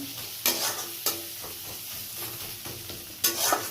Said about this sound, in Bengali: একটু নাড়ানাড়ি করে নিই